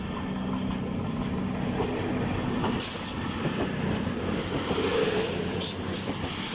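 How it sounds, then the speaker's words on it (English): Cross Country train from Newcastle to Banbury pulling out of Darlington station, a loud continuous rumble of wheels and engine with hiss and faint squeal as it moves off. "Departing now is a cross country service from Newcastle to Banbury."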